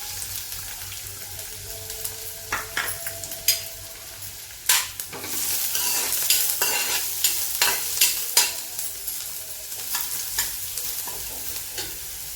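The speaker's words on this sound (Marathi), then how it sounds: "तेल तापलेलं आहे. आपण कांदा घालत आहोत." Onion drops into hot oil and is stirred while it fries for a red amaranth dish: a steady, close sizzle broken by repeated scraping stirs and clatter, without any talking.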